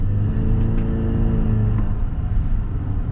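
A 2024 Chevy Silverado Custom with the Turbo Max four-cylinder engine drives at high elevation, its steady low engine drone and road rumble loud and close from inside the cab, holding a level tone throughout.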